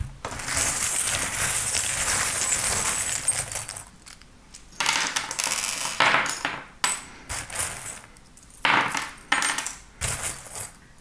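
Small metal tarot charms cast onto a surface, a long cluster of jangling, clinking metallic rattles followed by several shorter bursts of clinks as they settle and are handled.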